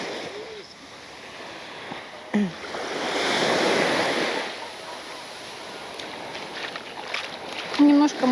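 Sea surf washing onto a tropical beach of coarse yellow sand in a bay on Koh Phangan, a steady low rush that swells into a louder wave in the middle, with a faint voice near the end.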